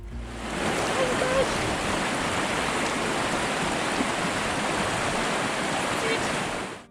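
Cold Partnach mountain river in the Reintal valley near the Zugspitze, flowing as a steady, loud broadband rush of water that fills the whole span without a break, no talking over it.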